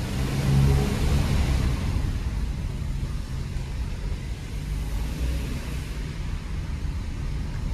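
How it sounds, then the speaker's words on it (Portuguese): Idling engine of a Hyundai HB20 1.6 automatic from the 2014/2015 World Cup edition, a steady low rumble with broadband hiss, slightly louder at the start then even and continuous throughout. "Aqui é o motorzinho."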